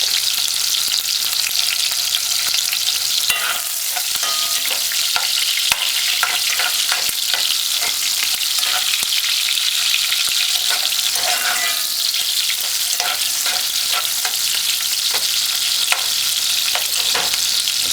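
Food sizzles loudly in a pan on a stove turned to high heat, a dense constant frying hiss with repeated stirring scrapes, close up and without voices.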